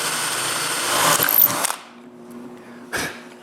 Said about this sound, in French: quand le fini est sec, là, je peux percer les trous pour le boulon qui verrouillera la dernière section des pâtes